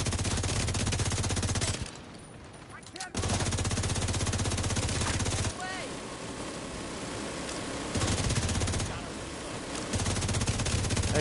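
Minigun fire in the shooter game The Division 2, manned by an AI teammate: long roaring bursts of rapid automatic fire broken by short pauses, loud and sustained, with faint game voices in the gaps.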